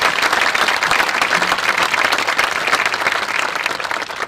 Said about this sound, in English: A big round of applause for all of our staff here this evening.